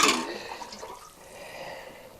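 Water rushes out with a brief loud burst, then settles into a softer steady flow while irrigating off-grid raised self-watering garden beds. No one speaks.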